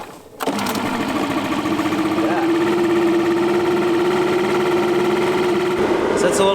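A four-stroke backpack leaf blower engine starts up and settles into a steady, buzzing idle, close and continuous, with someone talking over it.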